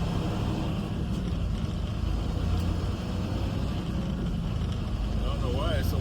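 Steady Chicago traffic noise from inside a car: a dense, continuous low rumble of engine and tires, with a faint wavering tone near the end.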